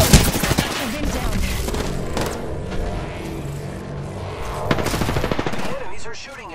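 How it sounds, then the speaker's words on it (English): Apex Legends gunfight with loud, rapid automatic gunfire in dense bursts, close and sustained for most of the stretch, a sharp shot opening it and a brief lull before another burst, with game voices under the shooting. "Shooting at me."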